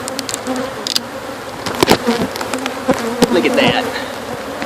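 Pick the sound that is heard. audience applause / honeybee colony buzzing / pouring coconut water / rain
honeybee colony buzzing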